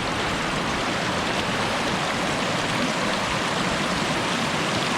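Strong flow of a large, clear creek near old stonework railroad bridge ruins, a dense, steady rushing roar of water heard close and loud without pause, with no talking over it.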